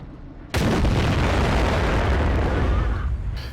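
A Rhm.-Borsig Waffenträger tank destroyer fires its main gun in World of Tanks, a single sharp boom that leaves a long, loud rumbling roll lasting several seconds.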